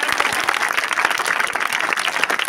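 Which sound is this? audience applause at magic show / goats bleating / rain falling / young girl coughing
audience applause at magic show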